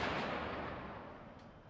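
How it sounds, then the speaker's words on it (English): A rocket fired in a video game set during a Chechen uprising, heard as a brief broad whooshing blast that fades steadily over under two seconds. "Rocket."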